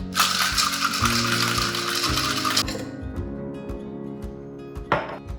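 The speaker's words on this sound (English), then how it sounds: "Going to shake for about 15-20 seconds." Ice and lime juice rattle hard in a cocktail shaker, a dense, fast, loud shaking for about two and a half seconds. The shaking then stops, leaving a few softer clinks and knocks.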